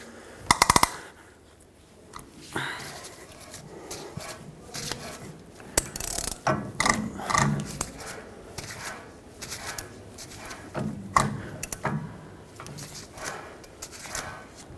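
Ratchet wrench clicking while tightening the rear wheel bearing hub nut on a 2011-2016 Ford F-350, bursts of close mechanical ratcheting separated by pauses and light clanks.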